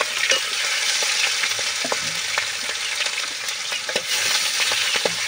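Pieces of freshly caught pabda fish fry in hot oil in a pan, a loud continuous sizzle with faint scraping and tapping from stirring, close up with no voices.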